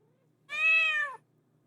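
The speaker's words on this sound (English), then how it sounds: "Cat." A single clear cat meow from the game Lethal Company sounds out, about 0.7 seconds long, close and isolated over near silence.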